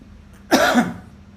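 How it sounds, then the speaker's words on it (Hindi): A single short, harsh cough, close and sudden, followed by quiet. "अरे खांसी से मैं खुद परेशान हूँ"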